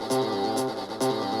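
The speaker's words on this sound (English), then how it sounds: "So I've added a bit of bass here." Synth bass in a remake of the Sonic Riders intro, pulsing under a dense electronic mix with bright cymbal-like bursts recurring roughly every half second, loud and steady with no voices.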